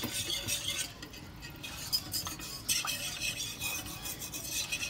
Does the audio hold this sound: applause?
no